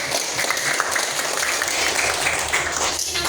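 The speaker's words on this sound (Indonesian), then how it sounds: "Kita berikan aplaus untuk kelompok 1." Applause from a classroom group after a student group presentation, steady dense clapping throughout, fairly loud and near, with no talk over it.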